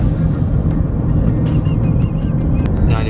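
Heavy road rumble as a truck loaded with about two tons of onions passes close on a road between Odisha and West Bengal, a loud continuous engine and tyre roar.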